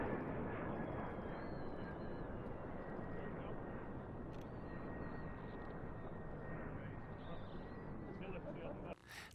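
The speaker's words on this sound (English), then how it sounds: "Here is a fighter jet performing some incredible maneuvers." A fighter jet performing maneuvers overhead, a loud, continuous broadband engine roar that holds steady for several seconds before cutting off abruptly near the end.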